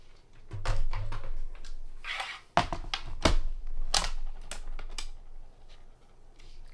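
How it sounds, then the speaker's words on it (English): Paper passing through a Spellbinders Platinum 6 die-cutting machine: a series of close, loud mechanical clacks and rolling thumps in an irregular rhythm, with no talking. "I'm going to put my paper down and run it through my Platinum 6."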